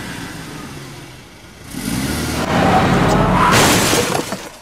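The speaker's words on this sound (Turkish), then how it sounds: "Aha araba geliyor. Çarpadı." In the horror video game Cry of Fear, a car roars in and smashes into a character: an engine swells loudly, then a heavy crash with shattering impact noise dominates the last seconds.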